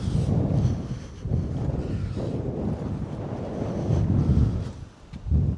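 Strong wind gusts across the open deck and trampoline nets of a sailing catamaran, a steady loud rushing roar with buffeting swells and no voices.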